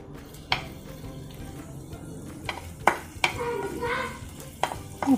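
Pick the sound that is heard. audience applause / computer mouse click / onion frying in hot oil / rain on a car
onion frying in hot oil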